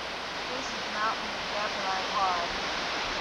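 A gentle little Yellowstone waterfall rushes in a steady, soft hiss, heard from nearby but fairly quiet, with faint murmured voices briefly under it.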